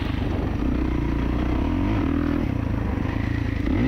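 A 2024 Kawasaki KX450 dirt bike ridden gently during break-in, its engine droning loud and steady with rising and falling revs and some rattling from the bike.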